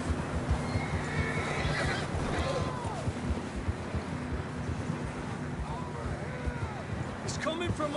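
Horse neighing in the Red Dead Redemption 2 game world, brief whinnies rising over a steady wind and ambient outdoor bed, with hoof clip-clop and voices talking at moments.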